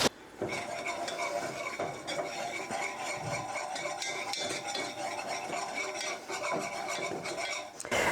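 A flour and butter roux is worked in a pan with rapid, rhythmic scraping and clinking of a utensil against the metal, close and steady throughout, with no speech.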